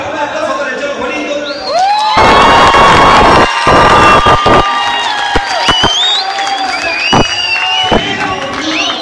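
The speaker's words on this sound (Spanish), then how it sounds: "A ver, un aplauso para el Cholo Juanito" A crowd bursts into loud cheering and clapping, with shouts and whistles rising over the applause before some voices carry on.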